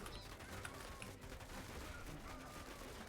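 Dense machine gun fire in the strategy game Tooth and Tail rattles continuously and faintly through a busy battle soundscape.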